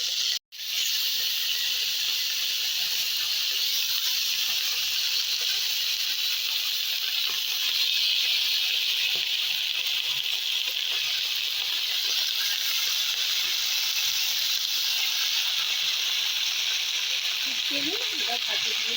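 Bottle gourd leaf parcels wrapped around fish, frying in hot oil in a pan, give a steady, loud hiss and sizzle that runs unbroken for the whole stretch after a brief knock at the start.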